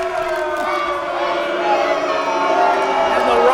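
A wrestling arena crowd in St. John, New Brunswick cheering for the fan favorite, a sustained roar of shouts and whoops that swells slightly toward the end.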